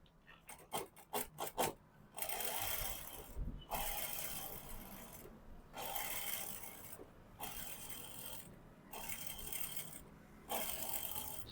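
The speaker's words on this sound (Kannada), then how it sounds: "ಈ ಎಡ್ಜ್ಗೂ ಸೇರಿಸಿ ಸ್ಟಿಚ್ ಹಾಕೋಣ." Stitches run along a fabric edge with a quick flurry of clicks, then several sustained mechanical whirring runs separated by brief pauses, close and steady, with no voices.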